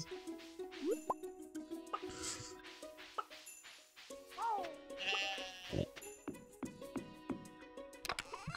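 Goats bleating in Stardew Valley Expanded, several short close bleats scattered among game dings, plops and soft background music.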